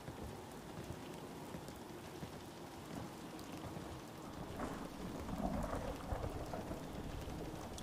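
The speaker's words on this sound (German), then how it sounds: "Es regnet aber auch" Steady rain with low rumbling thunder in the video game Fallout 4, a soft, continuous hiss and rumble that swells slightly toward the end, heard faintly on its own with no speech.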